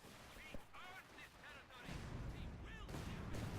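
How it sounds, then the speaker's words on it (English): Mortars trade fire in the Company of Heroes 2 video game, heard as faint distant thumps and booms under a dense battlefield rumble, while a voice talks over the action. "The trading of mortars continues in the middle."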